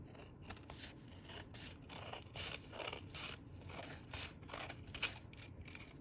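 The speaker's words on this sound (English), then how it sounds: "I'll take my scissors." Scissors snip repeatedly in quick, crisp strokes, close up and quiet, with no voices.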